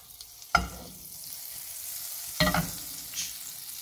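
Butter and a little oil frying an egg in a pan, a low steady sizzle punctuated by two louder bursts of scraping or crackling and a softer one after.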